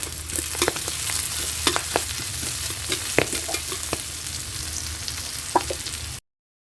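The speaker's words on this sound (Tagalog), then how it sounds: "Gigisahin nga natin to hanggang sa mamula lang itong ating bawang. At ilalagay ko na nga rin itong ating sibuyas." Garlic and onion sauté in a hot pan, giving a close, crackling sizzle broken by sharp spatula scrapes and taps that arrive at an irregular pace, then cutting off abruptly.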